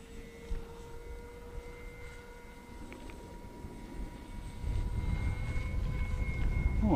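Electric motor of an RC foam airplane, a Blitz Works Super Sky Surfer, drones steadily in flight, with a wind-buffeted rumble that grows louder toward the end.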